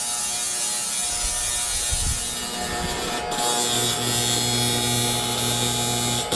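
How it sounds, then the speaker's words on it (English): A TIG welder repairs a broken steel roll cage piece on a Jeep WJ, giving a steady electric buzz and hum with a tonal whine that shifts midway, continuous and close, with no talking. "now he's over here trying to fix it with the welder."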